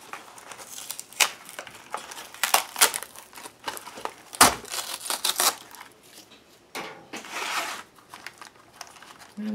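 Material is cut and torn away from the back of an old book being rebuilt, heard as close, irregular bursts of crisp cutting, crinkling and tearing separated by short quiet gaps.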